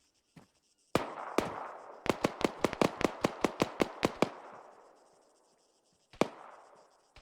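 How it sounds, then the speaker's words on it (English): Distant enemy gunfire in a military shooter, a rapid string of sharp cracks with a rolling echo tail, preceded by a few single shots and followed by one more isolated report. "it sounds like the enemies are engaging someone at around bearing 40"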